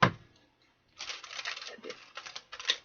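Tarot cards are shuffled in several quick riffling bursts, papery and fairly close, with a short sharp tap at the start.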